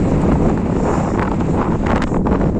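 Strong wind buffets the microphone in a steady, loud roar with rumbling low-end gusts throughout, no voices, in an open field during pumpkin sowing.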